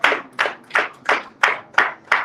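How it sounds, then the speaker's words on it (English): Audience at a local government launch event clapping in a slow, even rhythm, seven loud, close, distinct claps about a third of a second apart, with no voices. "A round of applause, please, as he goes back."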